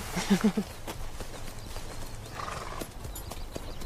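Hooves clip-clop on hard ground in an uneven rhythm, with a horse whinnying briefly near the start and faint background noise throughout.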